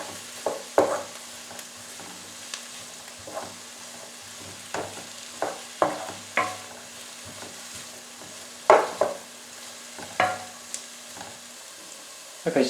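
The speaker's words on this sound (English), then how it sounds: "Uncovered, and we're going to give it a good stir." Onion, celery and allspice cooking for homemade tomato ketchup, stirred in an uncovered pot: a low background sizzle punctuated by a dozen or so scraping spoon strokes at irregular intervals, close by and without speech.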